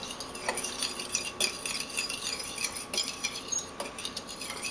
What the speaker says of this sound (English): I take a fork and stir the yeast so it's all